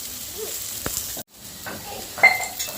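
Chopped onions, curry leaves and coriander are stirred in a hot pan, with a soft steady sizzle, scattered scraping and clinking of a spoon against the pan, and a brief gap in the sound.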